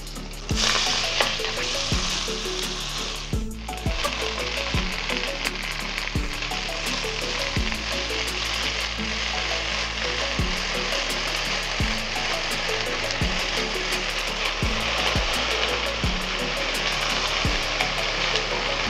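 Green chillies and fenugreek leaves frying in a pan for a chutney, a loud, steady sizzle heard up close, with regular scraping stirs throughout and no talking.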